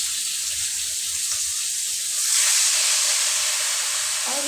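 Chicken meat dropped into hot oil for frying, a steady sizzling hiss that swells louder partway through and carries on without pause.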